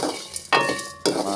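Lentils and spices dry-roasting in a pan for a Jaffna-style sweet: a soft, steady sizzle broken by two sharp scraping stirs, close up with no talking.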